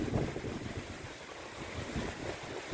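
Strong gusty wind buffets the microphone outdoors in heavy wind, a continuous low rumbling roar that swells and eases in irregular gusts, with no voices.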